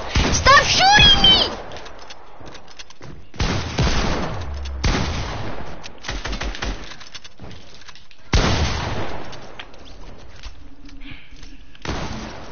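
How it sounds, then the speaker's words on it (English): Bursts of video game gunfire, several loud volleys and single shots separated by quieter gaps, with an excited voice shouting over the opening. "Stop shooting me!"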